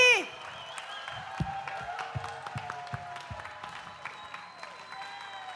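A crowd applauds at an outdoor summer music show. Steady clapping and some cheering sit under sustained musical tones and a voice, after a loud opening burst.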